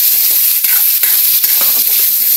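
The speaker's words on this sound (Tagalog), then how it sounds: "Ang isang gigisa ko dito ay alamang." Shrimp paste (alamang) sautés with pork, onion and tomato in a pan, giving a loud, steady sizzle with a few quick stirring scrapes, close up and alone.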